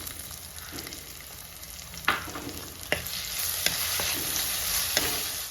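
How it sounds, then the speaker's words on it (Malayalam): Chopped tomato frying with golden shallots in a pan for a Kerala-style fish curry: a steady, close sizzle broken by a few sharp clicks of stirring, with no talking. "ഈ സമയം നമുക്ക് ഒരു തക്കാളി ചെറുതായിട്ട് അരിഞ്ഞത് ചേർത്ത് കൊടുക്കാം"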